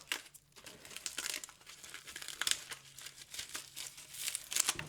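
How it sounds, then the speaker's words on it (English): A dried luffa sponge being cut at the end, producing close, soft crinkling and fibrous crunching that continues steadily for several seconds at low volume, with no talk. "I'm going to go ahead and just cut it off like this."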